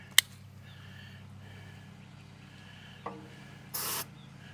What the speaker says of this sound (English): Go ahead and spray some in there.